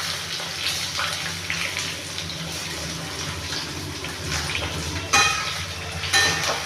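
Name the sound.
chopped onion frying in oil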